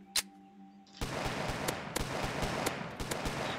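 Rapid game gunfire in Roblox: a string of sharp cracks and bursts fires steadily for several seconds after a short quiet opening with a single shot, close and dense with no talk.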